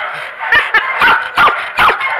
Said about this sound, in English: He's talking to the doggy.